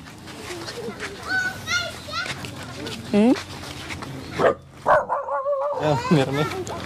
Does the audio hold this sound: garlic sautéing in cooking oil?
no